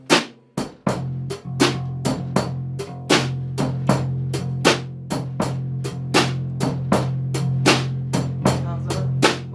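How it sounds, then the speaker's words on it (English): Bass guitar played without muffling, a steady series of plucked notes in an even rhythm over a sustained low droning tone that keeps ringing between attacks, close and moderately loud with no talking. "Without the muffling, it would sound like this."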